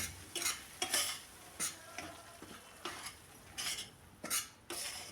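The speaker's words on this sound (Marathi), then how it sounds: "आपल्याला नाचणीचं पीठ कमी गॅसवरच भाजायचं आहे." Ragi flour stirred and roasted in a pan over low heat, with a spoon scraping and clinking against the metal in irregular strokes amid a faint sizzle, close and fairly quiet.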